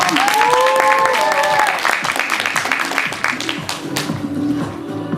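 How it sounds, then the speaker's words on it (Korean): Audience applause for a barista team at a 2019 coffee championship performance, loud clapping from a crowd mixed with tonal music and background voices, tapering slightly toward the end. "지원하고 있는 오래도 팀에게 큰 박수 한번 부탁드리겠습니다"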